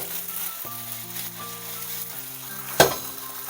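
Eggs stir-fried into large curds in a wok give a soft, steady sizzle under prominent background music, with one sharp clank of a utensil near the end.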